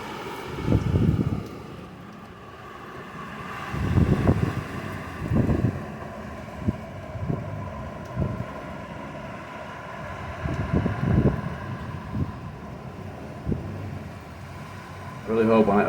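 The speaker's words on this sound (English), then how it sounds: "I really hope when I upload this you can hear that grumbling wind sound." Grumbling wind from Hurricane Ian in its early stages, heard from a bathroom window as low rumbling gusts that swell and fade in bursts, buffeting the microphone, with a person talking between them.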